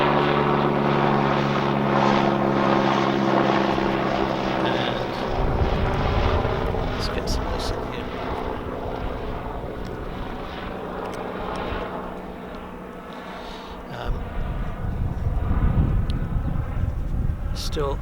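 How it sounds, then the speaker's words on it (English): A helicopter passes overhead near the River Thames at Henley-on-Thames, its loud droning rotor and engine rumble holding steady for many seconds before slowly fading, heard outdoors. "it's a helicopter going over."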